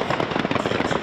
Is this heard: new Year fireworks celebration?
yes